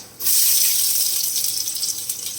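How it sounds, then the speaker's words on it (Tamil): Mustard seeds, fenugreek and onion hit hot oil in a pan for a Tamil vada kuzhambu, setting off a sudden, sustained loud hiss of sizzling that carries on unbroken without talk. "எண்ணெய் நல்லா காஞ்சிருச்சு இப்போ கொஞ்சம் கடுகு கொஞ்சமாக வெந்தயம் வெங்காயம் சேர்த்துக்கிறேன்"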